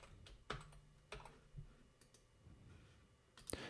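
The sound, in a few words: computer mouse button clicking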